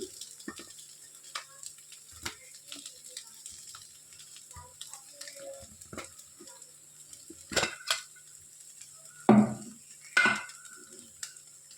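A spatula stirs fish roe with potato and pointed gourd in a pan, making intermittent scrapes and clinks over a soft sizzle, with a burst of louder scraping toward the end.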